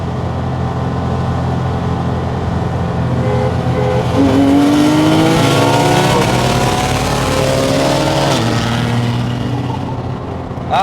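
A Porsche GT3 engine revs hard while accelerating on a drive, its pitch climbing through several gear pulls, loud and close from inside the car, with a brief tire squeal.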